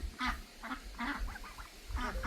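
Farmyard ducks quack close by, a rapid series of six or seven harsh, nasal quacks over a steady low rumble of outdoor noise.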